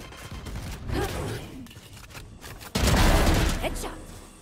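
Gunfire in the tactical shooter Valorant, a burst of shots with a louder, denser volley in the second half, mixed with game effects and some talk.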